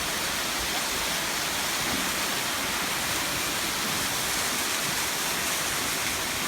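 A steady, dense rush of a waterfall in Sapa fills the air, a constant broadband roar with no pauses or voices.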